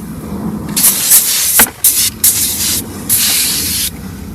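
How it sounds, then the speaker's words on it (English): Cleaner sprayed over the dashboard of a 1984 Pontiac left parked for 30 years, heard as several loud, close hissing bursts of varying length with short pauses between them. "Just gonna spray it all over the dash"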